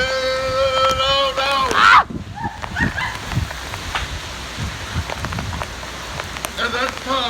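Hurricane Irma rain and gusting wind beside a pool in Plantation, Florida: steady pattering rain and rushing gusts with a sharp surge partway through, while a person talks over it.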